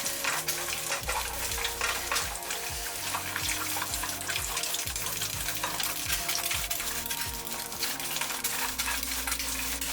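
Eggs cook in a hot pan for an English muffin sandwich, a steady close sizzle of frying with stirring and scraping sounds running throughout, no talking.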